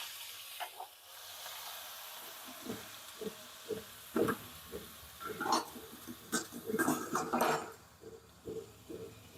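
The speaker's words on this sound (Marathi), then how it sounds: "आता आपली मोहरी तडतडली" Mustard seeds crackle and pop in hot oil in a kadhai while a spicy radish-leaf vegetable dish is cooked village-style, with irregular sharp pops that grow denser over a soft steady sizzle.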